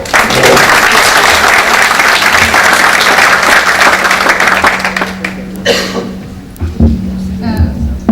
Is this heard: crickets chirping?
no